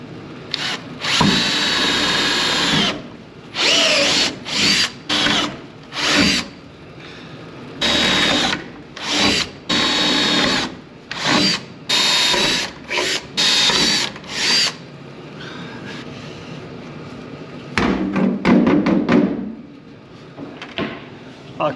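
A power drill drives screws into a metal van roof to fit a Maxxfan roof vent, sounding in loud, close bursts of whirring that repeatedly start and stop, with short pauses between each screw.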